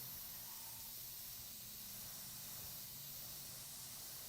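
An airbrush sprays soft, thin Createx opaque white paint in a continuous faint hiss of air, steady and unbroken throughout, heard close with no voices.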